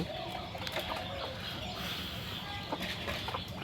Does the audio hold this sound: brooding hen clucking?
yes